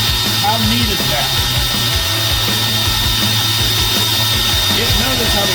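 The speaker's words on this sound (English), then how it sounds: "Now watch how this thing drills." A steady, loud mechanical whine of a machine drilling, with a constant high tone and rumbling underneath, continuous throughout.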